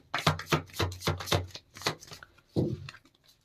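Tarot cards being shuffled by hand: a close, steady run of papery riffles and slaps in quick rhythm, followed by a softer final shuffle and no speech.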